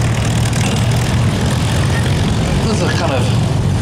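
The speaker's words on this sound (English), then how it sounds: "it's a plane that first flies in August 1940," A propeller aircraft from the 1940s flies at an airshow, its engine roaring loud and steady throughout with a deep droning rumble, while a voice talks over it.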